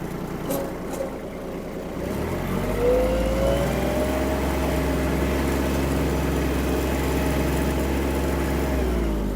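A Kubota GB-20 Japanese mini tractor engine drives with a steady, deep diesel drone, close and loud, rising from a quieter start into continuous running with no talk.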